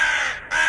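A crow gives a harsh, close caw that breaks briefly and then resumes, loud and alone with no talk.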